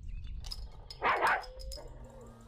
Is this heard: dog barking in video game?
yes